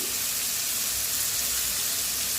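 Onions sauté in a pan for pulicha keerai thokku, giving a steady, even hiss and sizzle that holds without break at moderate level, with no talking over it.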